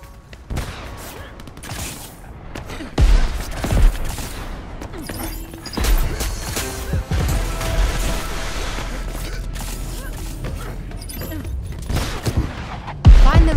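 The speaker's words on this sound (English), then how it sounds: "Watch the enemy fire." Enemy gunfire in the video game Crackdown 3, a sustained fusillade of shots and booms with mechanical clatter, loud and close, swelling after a few seconds and again at the end, under game noise.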